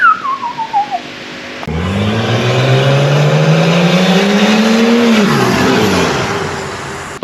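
Holden VL turbo car engine revving up, a rising engine whine climbing in pitch for several seconds before dropping off, preceded by a brief falling whistle-like sweep and a few short bursts.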